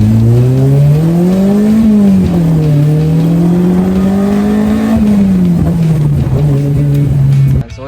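An owner-type jeep fitted with a 4AGE engine revs up and down close by, a loud, rising and falling engine note that holds steady between blips and cuts off abruptly at the end.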